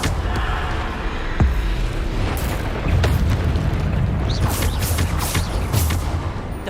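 Bombarda blasting spell in Hogwarts Legacy combat on hard difficulty: a chain of heavy booms and crackling bursts, with sharp impacts scattered over a continuous rumbling battle din, loud and close.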